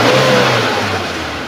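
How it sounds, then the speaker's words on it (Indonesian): Suzuki Carry Futura pickup from 2016 with worn engine mounts, its engine revved up close and loud, a short steady rising run with no talking. "kita naikkan RPM-nya"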